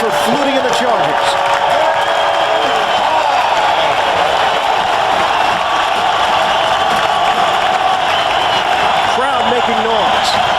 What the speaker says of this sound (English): Crowd making noise